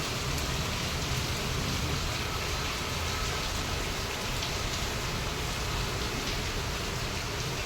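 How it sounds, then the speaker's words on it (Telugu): A steady downpour in Hyderabad roars without pause, thick rain spattering on the ground close by, with no talking. "చూస్తున్నారు కదా ఎంత పెద్ద వర్షం పడుతుంది"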